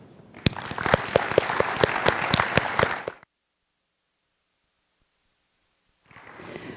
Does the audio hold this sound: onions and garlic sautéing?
no